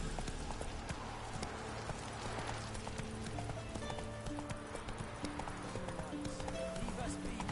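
Horse hooves clip-clop at a steady gallop in The Witcher 3 video game, the rhythm carrying on under game music and a voice speaking.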